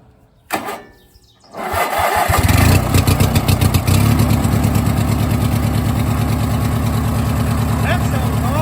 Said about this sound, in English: how to make a custom exhaust on an 18-horse Briggs and Stratton opposed twin